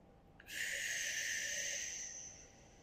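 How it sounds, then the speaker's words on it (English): A single slow, long breath, audible and airy, is drawn during a side-split stretching routine. It swells and then fades in quiet surroundings, with no speech. "I'm going to practice my breathing now and stop talking."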